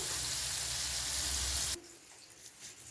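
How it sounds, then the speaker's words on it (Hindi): Chicken popcorn frying in hot oil gives a loud, dense sizzle for under two seconds, then cuts to a quieter room with a faint clink as the pieces are turned to the other side. "साइड चेंज करते हैं ताकि दूसरी साइड से भी कुक हो जाए"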